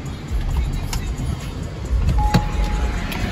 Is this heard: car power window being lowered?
yes